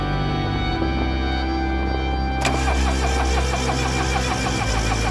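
A flooded car engine cranks weakly under a little gas and fails to catch, its starter grinding in a steady rhythmic churn, loud and close, with no voices.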